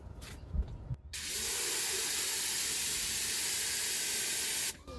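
A compact DGIVOVO pressure washer fires water through a green nozzle, starting with a few brief knocks before a loud, steady hissing spray that holds for several seconds and then stops.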